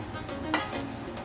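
Steak landing in a hot pan with shrimp nearby, giving a brief close sizzle with a faint stirring rustle and a small burst midway, no talking.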